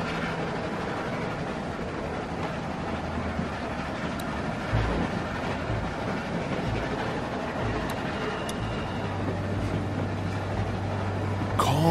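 Steady rumble of a train rolling along rails in the video game The Walking Dead, with low engine drone and faint rhythmic clatter, continuous and fairly loud throughout.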